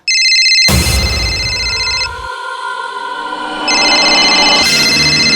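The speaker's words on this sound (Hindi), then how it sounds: "तेरे जिगरी दोस्त करण का ही फोन होगा, उठा ले।" A phone rings loudly in a tense room, a repeating electronic ringtone in two bursts separated by a brief pause, with no talk over it.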